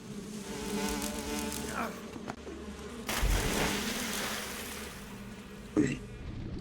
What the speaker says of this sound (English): Bees and wasps.